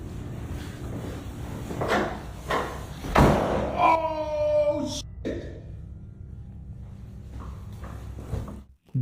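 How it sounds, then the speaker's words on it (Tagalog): A door slams shut loudly in a house, a single sharp bang followed by fading rattle, with faint sighing or breathing around it and no speech. "Biglang sumara ng malakas ang pinto sa likod niya, kaya natakot siyang tumakbo."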